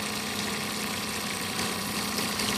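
Mercury 9.9 hp Bigfoot outboard motor idling after a fresh start, a quiet, steady mechanical hum with a faint buzzing vibration and no voices.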